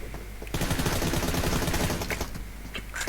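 A fast run of pistol shots in PUBG Mobile, dense rapid cracks starting abruptly and continuing steadily for a few seconds, fairly loud and close.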